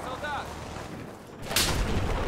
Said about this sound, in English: Got a mortar behind us?